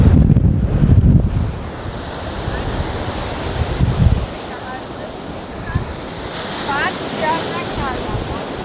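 Ocean surf breaking on a windy beach at Costa Mujeres, Cancun, with loud wind buffeting the microphone and a steady wash of choppy waves, a heavier crash in the first seconds and another around the middle.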